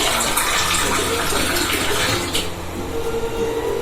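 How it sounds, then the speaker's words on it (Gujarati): Water gushes from a glass in a steady, continuous stream into a cooking pot nearby, splashing loudly and easing slightly toward the end. "3 ગ્લાસ ઉપર પાણી નાખું છું"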